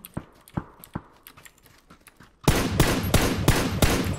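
Rapid bursts of gunfire from inside a house in the battle royale game PUBG erupt loud and close as several sharp, dense volleys, preceded by quieter scattered shots and footfall-like taps.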